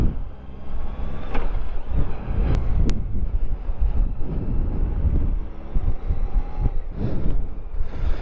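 Honda Goldwing motorcycle cruising in top gear at about 55 mph, its low steady engine rumble buried under loud, continuous wind buffeting on the microphone.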